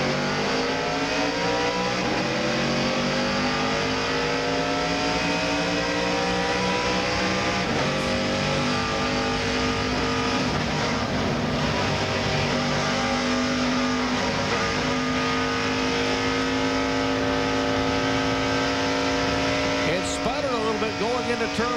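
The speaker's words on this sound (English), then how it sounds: "Let's see if Mark can get his engine up to speed." Race car engines roar loudly and continuously as the field accelerates at Darlington in a 1998 Busch Grand National race, with rising, layered revving and passing cars. An announcer talks over the noise.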